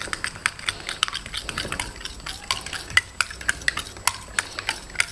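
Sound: mixing cheese roll filling with pepper and salt

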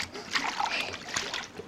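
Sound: child splashing water in swimming pool

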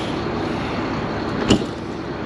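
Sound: heavy motorhome door being closed

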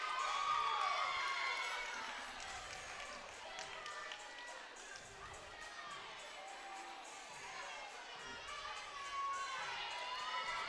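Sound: crowd cheering at a college gymnastics meet

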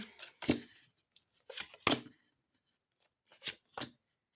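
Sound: shuffling cards

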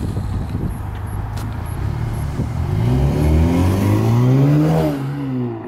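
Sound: Cadillac ATS 2.0 turbo engine revving with Mishimoto intake

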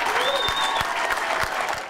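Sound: airport workers cheering and applauding after raise approval

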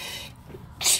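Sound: sneeze

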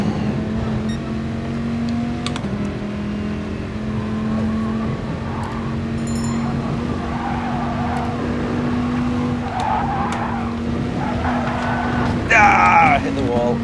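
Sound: race car braking and skidding in Gran Turismo Sport video game

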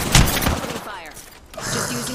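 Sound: gunfire from a video game

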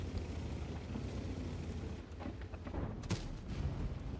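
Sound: tank gun firing a shell in the video game World of Tanks

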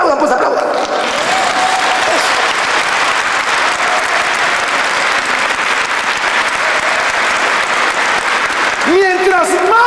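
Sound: church congregation applauding

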